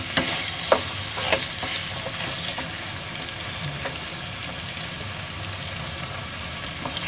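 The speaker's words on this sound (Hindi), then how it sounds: "अब इसको हम खूब अच्छे से भून लेंगे।" Grated carrots for gajar halwa roasting in a pan over a slow flame, a steady soft sizzle with a few sharp scraping stir clicks near the start, constant and close.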